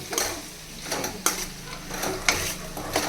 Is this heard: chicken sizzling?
yes